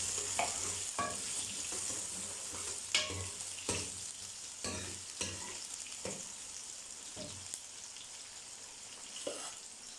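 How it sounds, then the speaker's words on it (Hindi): Chopped onions frying toward golden brown for beef palak gosht, a steady sizzle broken by repeated stirring scrapes and clinks of a spoon in the pan, close and alone with no talk. "और प्याज को जो है ना हम गोल्डन ब्राउन कर लेंगे"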